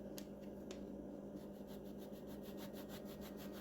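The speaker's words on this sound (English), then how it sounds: "I have some lemon peel of some lemon that I'm going to zest real quick" A zester scrapes across lemon peel in a quick run of soft, faint rasping strokes, close and steady, with no talk.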